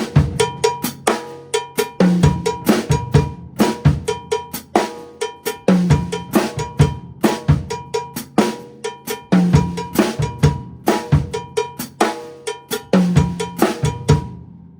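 Steady, loud Fusion Mambo groove on drum kit, cowbell accents driving a repeating syncopated pattern over kick, snare and cymbal hits, played alone with no talking.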